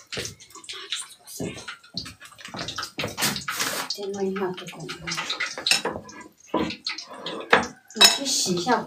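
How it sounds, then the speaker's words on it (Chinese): A cooking pot is scrubbed and rinsed with water in a rural kitchen, with repeated close clanks, scraping and splashes, while voices speak intermittently. "我去洗一下锅"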